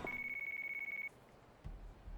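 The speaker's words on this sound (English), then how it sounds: "We got a phone call." Telephone ringing in the video game Yakuza 3, a thin, steady electronic tone that pulses rapidly for about a second before cutting off, faint under soft background ambience and a low thump.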